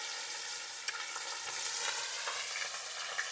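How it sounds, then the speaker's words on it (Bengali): Chopped onion frying in hot oil with whole cumin in a pan, a soft continuous sizzle and crackle with occasional small pops and stirring, fairly faint and with no talk. "এখন দিয়ে দিচ্ছি কিছুটা পেঁয়াজ কুচি।"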